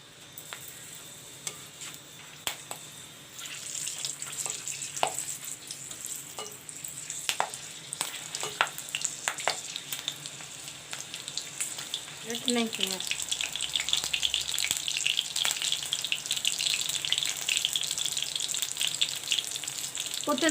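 Green chilies sizzle and crackle as they fry in hot mustard oil in a pan, a steady hiss that grows louder and busier partway through, with occasional sharp pops and clinks.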